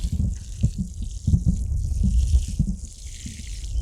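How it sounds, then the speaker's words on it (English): Water splashes and trickles steadily onto radishes in a garden bed, a close, continuous pouring sound with small uneven spatters and no voices. "we're gonna water these radishes"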